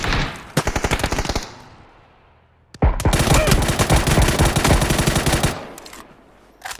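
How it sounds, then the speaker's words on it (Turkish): Loud, close bursts of rapid automatic gunfire in the PUBG battle royale game, a short volley, a pause, then a long sustained stream of shots with a brief burst at the end. "Sağdan sıkıyor."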